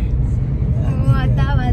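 Steady low rumble inside a moving car on the road, with engine and road noise continuous throughout and faint voices in the background.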